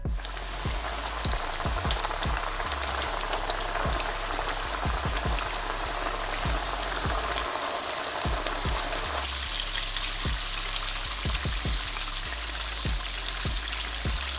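Hot oil sizzles and crackles steadily throughout as chicken wings deep-fry, with scattered pops and light clinks, and no talking.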